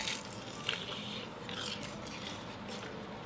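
Crunching bites into a crispy pan-fried dumpling during a spicy tteokbokki meal, with a sharp crack followed by rasping, crackly chewing, close and quiet.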